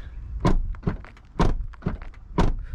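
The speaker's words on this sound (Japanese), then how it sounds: "で、これは電動ラッチです。 この裏側にあるちょっとゴム材のものをちょっとクッて引っ張ると、これで開きます。" The electric door latch of a Nissan Ariya or Lexus NX 450h+ is released and the door opens, giving about five close, solid clunks and thunks spaced in a loose rhythm, with no talking.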